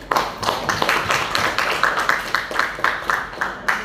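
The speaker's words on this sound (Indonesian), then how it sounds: "Tepuk tangan untuk Bu Andi." An audience of teachers at a training session applauds a presenter, a brisk, fairly close patter of many hands clapping for a few seconds with no talk over it.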